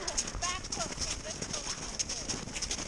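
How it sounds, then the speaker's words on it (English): Rapid drumming hoofbeats of a galloping horse over a field, steady and fairly close, with a loud voice talking over it throughout. "Galloping!"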